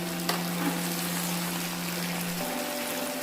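A tortilla frying in a pan just after being flipped, giving a steady close sizzle with a faint hum and no talking.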